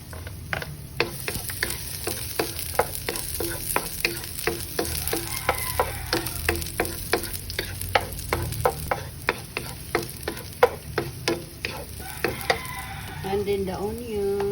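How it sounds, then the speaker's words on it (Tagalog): Garlic sautéing in a pan for corned beef with cabbage, with steady frying sizzle under a rapid run of sharp utensil clicks and scrapes against the pan, close and fairly loud throughout. "Okay, saute the garlic."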